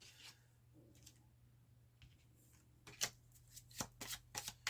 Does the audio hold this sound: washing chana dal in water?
no